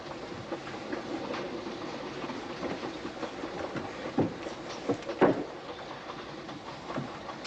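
A moving passenger train heard from inside, with a steady rumble and rolling clickety-clack of wheels over rail joints, plus a few louder knocks and rattles.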